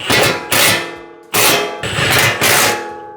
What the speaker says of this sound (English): Now we can just do the simple bolts and nuts that are on the front of this. So now we put our Allen wrench in.